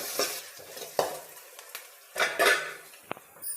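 Crushed coriander seeds and cumin frying in a pan, with sharp metal spoon scrapes and clinks against the pan over a light sizzle, in uneven bursts, no talking.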